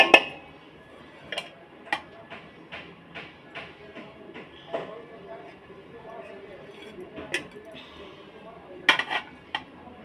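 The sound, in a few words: rice being added and mixed into a pot of meat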